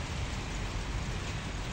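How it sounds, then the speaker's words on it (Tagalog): Steady rain falls on a rooftop in Kuwait as a dense, even hiss of drops, close and continuous, with no pauses or voices. "Ayan, umulan na talaga siya."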